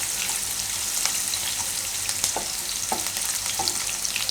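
Cashews and other ingredients stirred in hot oil for a Gujarati carrot and mung bean pulao, a steady close sizzle with soft scraping strokes of a spoon through the pan, no voices.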